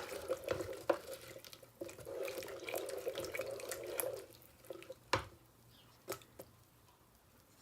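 Water trickles from a tap into a soup maker for an apple and parsnip soup, a soft steady running under light clinks and a few sharp knocks, fairly quiet and close, with no talk.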